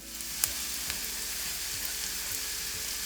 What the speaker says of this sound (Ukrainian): Кілька зубчиків чищеного чеснику подрібнюємо ножем і також відправляємо після цибулі на пательню.